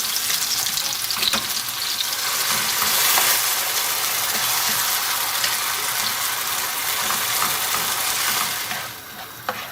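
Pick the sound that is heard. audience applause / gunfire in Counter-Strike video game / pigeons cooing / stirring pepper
stirring pepper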